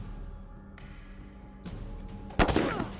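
Gunfire in the video game Wasteland 3, with a sudden loud burst of shots near the end following a quieter stretch of ambient game sound and a couple of faint impacts.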